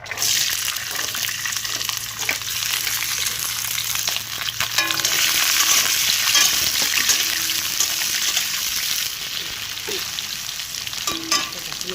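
Green beans sizzle steadily in a hot pan with bay leaf, a continuous close frying hiss with occasional stirring clinks and no talking.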